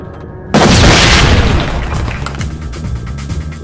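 A flashbang grenade detonates in the SWAT 4 tactical shooter, a single sudden loud boom that cuts in sharply and then rings and rumbles away over the next few seconds.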